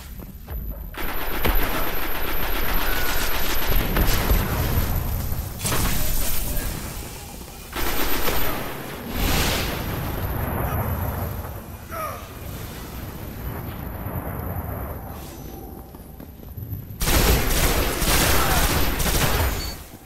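A heavy weapon fires repeatedly in a Destiny team deathmatch, loud dense bursts of gunfire with booming impacts in clustered volleys, broken by short lulls and blending with other battle noise.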